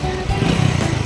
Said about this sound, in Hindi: वो बाइक स्टार्ट